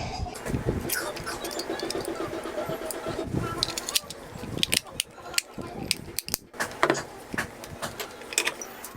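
Small plastic clicks and snaps come from a TV remote control with unresponsive buttons as it is reassembled during a repair. The close, irregular taps and ratchety clatter come in scattered bursts, with a voice talking over part of it.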